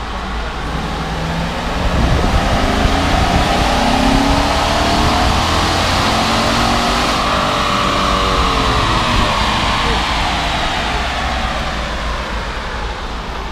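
A truck engine runs hard on a chassis dyno with a cold air intake fitted, a loud sustained roar with rising and falling pitch sweeps as it pulls through the gears, continuous throughout with no talk.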